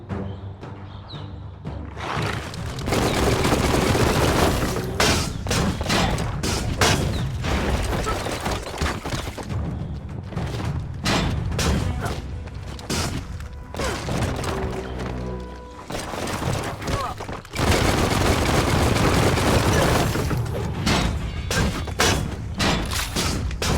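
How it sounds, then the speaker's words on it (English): A bomb lobber in Biomutant fires and explodes: loud, dense bursts of booms, thuds and rapid blasts with mechanical clatter, nearly continuous and layered under game noise throughout. "That's a bomb lobber. That hit the spot, wrecked it."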